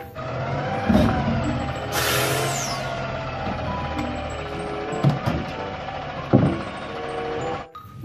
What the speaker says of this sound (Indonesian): Mobil truk sampah, teman-teman.